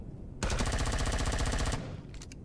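Rapid automatic gunfire in Empyrion Galactic Survival aimed at a distant target, a dense burst of regular shots lasting over a second, then a few scattered later shots, no talk.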